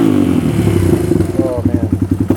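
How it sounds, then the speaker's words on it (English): Loud, close idle of a Suzuki DR 200 motorcycle fitted with a DG O-Series exhaust, a steady chugging beat with someone talking over it. "It's like 4 times louder, I'd say, just an idle."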